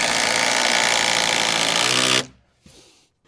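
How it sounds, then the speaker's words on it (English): A power drill-driver whirs continuously at high speed, driving a screw into a timber sole plate in a garden room build, then cuts off abruptly, followed by a short second burst. "So I'm going to go around each bay and put a screw in."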